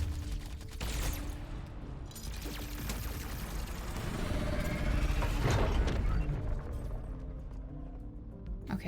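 Gunfire in the video game Love and Deepspace rattles in dense bursts of shots and mechanical clatter, swelling louder mid-scene amid booms and crashes, fairly quiet overall with no talking.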